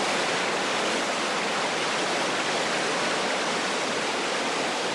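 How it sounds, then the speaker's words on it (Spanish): Water flows steadily from forest soil in a constant, dense rushing wash, close and even throughout, with no voices. "El agua que fluye del suelo de bosques contiene gran cantidad de nutrientes."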